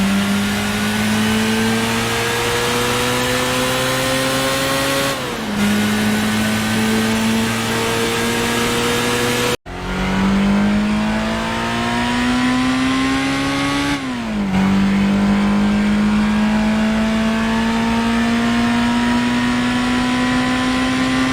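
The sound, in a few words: Mazda MX-5 first generation engine revving in Gran Turismo video game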